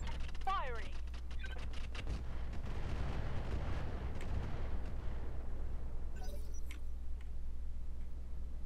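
Salvoes of LRM missile weapons firing in the mech combat video game Roguetech, a dense, continuous rumble of launches and impacts with a sharp whining streak near the start and crackling bursts later.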